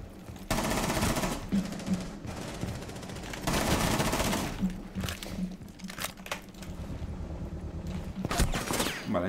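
Rapid automatic gunfire fills a Rainbow Six Siege match, with dense bursts that pause briefly and then resume, heard loud and close throughout.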